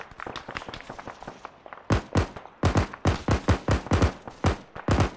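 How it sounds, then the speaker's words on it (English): A firefight in the video game Arma 3 brings a rapid series of sharp, loud gunshots, some single and some in quick bursts, cracking close with echoing tails and no talk. "there's less and less guns shooting at us"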